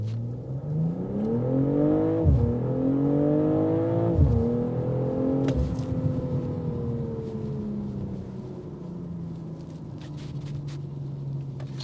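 A 2026 BMW M440i Coupe with 386 horsepower accelerating hard on a test drive, its engine note climbing through several gears with brief dips at each shift, then settling to a steady cruising drone, heard from inside the car.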